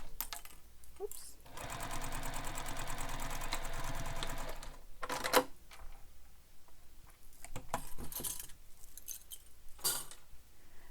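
A sewing machine runs a long continuous burst of rapid stitching through a vinyl handbag piece, then stops, followed by scattered clicks, handling noises and shorter runs nearby.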